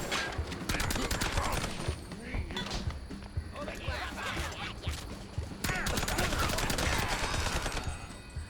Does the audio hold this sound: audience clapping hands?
no